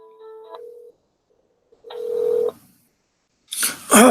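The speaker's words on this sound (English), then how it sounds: "Please wait while we connect your phone call." Telephone tones sound while a call connects: a short steady beep, a pause, a second longer tone, then a burst of noisy ringing or line sound at the end.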